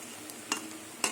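Taro leaf fritters fry over a lowered gas flame with a soft steady sizzle, interrupted by a few short clinks from a utensil.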